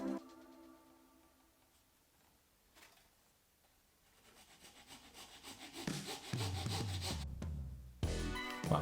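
A small hand saw carefully cuts a wooden wing part for a Gundam model, starting faint and slow, then building into steady close rasping strokes that grow louder toward the end.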